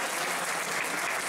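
Dense, steady applause from guests at a quinceañera party, a continuous loud wash of many hands clapping at once with no pauses.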